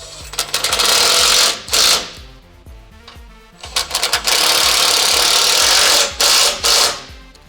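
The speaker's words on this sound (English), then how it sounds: "we'll just get an impact and we'll tighten these up" An impact wrench rattles in several short bursts, then one long sustained run, as it tightens M8 bolts securing a frame plate for rock sliders on a third-generation Toyota Sequoia, loud and close.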